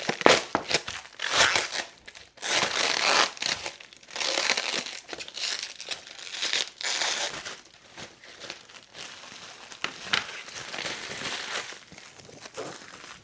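Crinkly cling-wrap packaging around a new washer-dryer lint filter being handled and pulled apart, giving loud irregular bursts of crackling and crumpling close up, with no talking.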